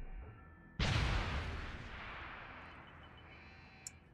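A grenade explodes in Deus Ex: Human Revolution Director's Cut, one sudden loud blast with a long rumbling tail that slowly fades, followed by a faint small click near the end.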